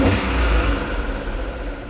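A Daihatsu kei truck engine revs up and holds a steady mid-pitched drone for about two seconds, close by and fairly loud, with no talk over it.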